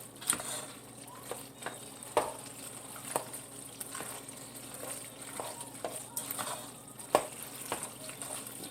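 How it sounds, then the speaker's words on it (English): Big spoon working through a ground beef mixture for cheeseburger mac and cheese, a steady run of soft wet scrapes and squelches with a few louder knocks against the bowl, close by and with no talk. "Let's mix it up."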